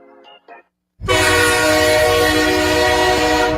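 After a short, quiet beep, a loud train horn sounds in one long, sustained, close blast that holds steady to the end.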